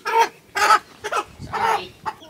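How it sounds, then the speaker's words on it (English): A chicken in a farm coop clucking up close, a series of loud, abrupt clucks in uneven bursts, alone with no talk. "Those are chicken. There's a chicken in here."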